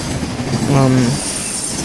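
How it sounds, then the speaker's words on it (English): Tail end of a Norfolk Southern grain train of gondolas rolling past at Fostoria, Ohio: steady rail rumble with a brief squealing wheel tone midway, fairly close, no talk. "Here's the end of this first Norfolk Southern train here coming up."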